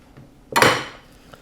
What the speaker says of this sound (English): Smash them open flat.